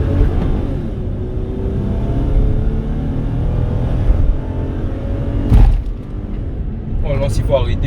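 A Toyota Highlander 4x4 with a V6 engine pulls steadily under acceleration, a continuous low drone and road rumble from inside the cabin, with a brief louder bump near the end.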